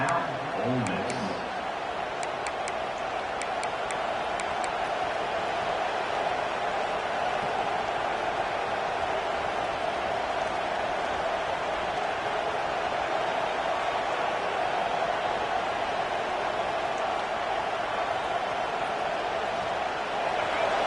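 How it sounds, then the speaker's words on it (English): A large college football stadium crowd roars steadily in a wide, distant wash of cheering and noise that never lets up. "This crowd bringing the energy and noise early."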